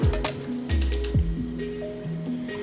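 Chicken pieces are mixed by hand with paste and vinegar for butter chicken, giving repeated wet, squelching squishes in an uneven rhythm, close and fairly loud.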